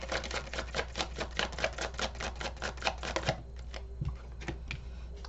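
Tarot cards are pulled from a deck with a fast, even run of crisp clicking flicks, then a few slower, lighter card taps, close by with a low steady hum underneath.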